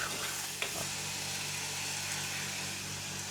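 Garlic sizzles steadily in a hot pan while being stirred with a wooden spoon, a constant close hiss with a faint scrape near the start.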